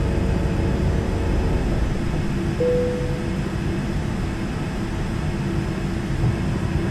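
A Learjet 45 in Flight Simulator X roars through its takeoff climb with a steady, loud, broadband jet engine drone, a brief whine rising partway through.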